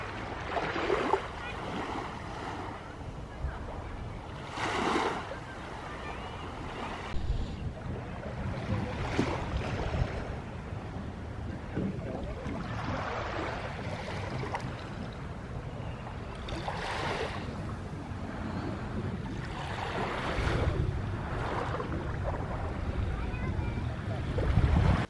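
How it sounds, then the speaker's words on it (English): Waves wash onto a beach at night in Gdansk, a steady roar of surf with several swelling breakers, partly buffeted by wind noise on the microphone. "I'm gonna go and have a little stroll on the beach"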